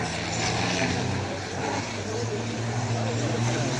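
Racing trucks roar at the Lessay truck cross, a dense continuous engine and crowd din with no letup, loud and broadband for the whole stretch.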